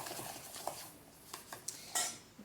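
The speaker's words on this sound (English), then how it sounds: "all I'm going to do is stir these together" Stirring coconut oil into body scrub ingredients in a bowl, with a few scraping clinks of a utensil against the bowl and sporadic close, light knocks.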